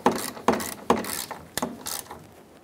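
Ratcheting wrench snugging a bolt on the fuel vapor charcoal canister of a 2007-2014 Chevrolet Silverado 2500 HD, several close, crisp clicks in short bursts about every half second, with no talking.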